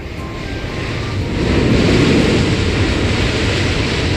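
An airliner's jet engines roar loudly and steadily at Seoul Incheon Airport, a broad close rushing noise that swells slightly and holds.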